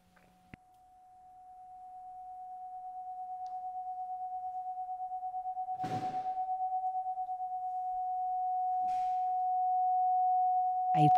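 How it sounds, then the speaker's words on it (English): Resonant trumpet feedback tone, pitch shifted by pressing the valves in an electronic music setup: one steady sustained tone held for about ten seconds with a slight pulsing wobble, joined by a few brief breathy noise bursts. "Then you start to hear them as audible feedback, and I can actually control their pitch and play them by moving the valves of my trumpet."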